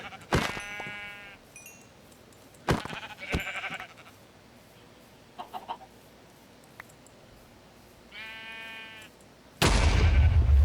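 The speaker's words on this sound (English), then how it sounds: "Why do the sheep explode?" Sheep in Minecraft with the GregTech New Horizons mod bleat several times in short wavering cries, with sharp hit sounds between them, and the clip ends in a sudden loud, sustained burst like an explosion.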